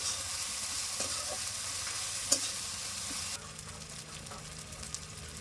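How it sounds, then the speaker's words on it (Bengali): Garlic and ginger paste frying in a pan for a bottle gourd kofta curry, a steady hissing sizzle with a couple of light spatula taps, the sizzle dropping noticeably quieter partway through, no voices. "এবার রসুন আর আদা বাটা একসঙ্গে দিয়ে দেবো ভালো করে কষিয়ে নেবো"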